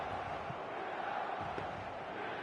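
Steady, continuous roar of a large stadium crowd at a football video game match, a dense broad murmur holding at an even level throughout with no distinct shouts standing out.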